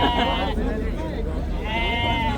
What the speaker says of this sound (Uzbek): Mana bu yerda har doimgidek echkilar, sutli echkilar bozorni oldida bo'ladi.